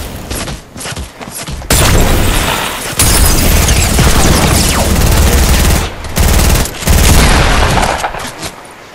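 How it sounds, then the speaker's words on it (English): Loud bursts of P90 gunfire in Fortnite, with rapid automatic volleys starting and stopping in several long runs separated by brief gaps, close and dominant. "We're shooting that P90."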